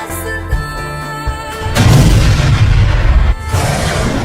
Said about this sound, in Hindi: तब तक बम फोड़ लेता हूँ।